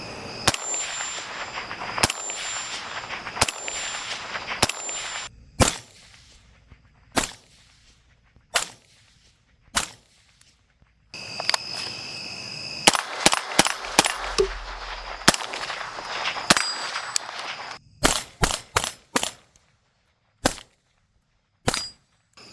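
Suppressed 5.56 rifle shots fired through an LMT Ion K suppressor, loud sharp cracks, some single and some in quick strings, spread across the stretch with short quiet gaps and no talking.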